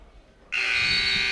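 Loud, sustained electronic buzzer sounding at the end of a period in an NCAA college wrestling match between Wyoming and Utah Valley, cutting in sharply after quiet arena ambience.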